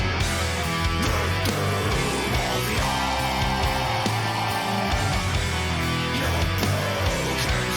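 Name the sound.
A metal song with harsh vocals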